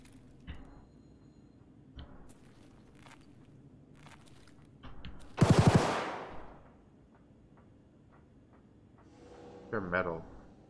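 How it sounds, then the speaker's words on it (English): Gunfire in the Escape From Tarkov video game, in the Labs map: one sharp, loud burst of shots in the middle of a quiet stretch, with soft footsteps and scattered clicks around it and a smaller burst near the end. "That pew pew noise is pretty spooky."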